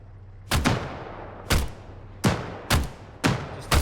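Single rifle shots crack out in ARMA 3, a military video game, in five or six loud, evenly spaced reports with short echoing tails and no talking between them.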